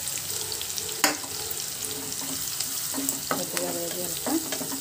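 Dried red chillies and curry leaves frying in hot oil in a home kitchen, a steady close sizzle with occasional sharp pops and stirring clinks throughout.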